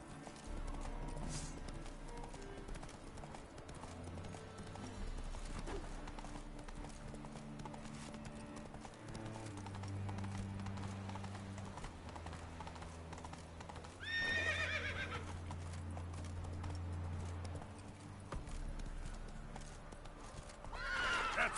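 Roach, a horse in The Witcher 3 game, galloping with a steady drumming clip-clop of hooves under music, breaking into two loud whinnies, one midway and one at the end.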